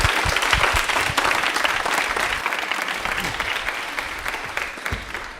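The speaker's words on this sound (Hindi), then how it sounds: "तालियां एक बार जोरदार जाए" Loud, sustained applause from an audience at an Indian Railways quiz programme, a dense wash of clapping that holds steady and eases slightly toward the end.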